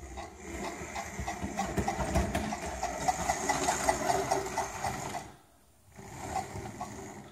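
Model locomotive running across track points, a steady mechanical whirr with faint rhythmic clicking as the wheels cross the rail joints, then a brief lull before the running resumes.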